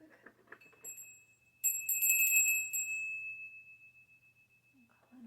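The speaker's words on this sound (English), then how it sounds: "I'm going to ring my bell real quick." A small hand bell rung once, its bright sustained ring with high overtones decaying slowly over several seconds after brief talk, with soft speech resuming at the end.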